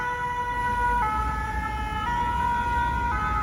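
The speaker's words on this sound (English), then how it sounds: "Lots of sirens." A two-tone emergency siren wails on a Paris street, alternating pitch roughly every second, over low traffic rumble, fairly clear and sustained until it cuts off abruptly.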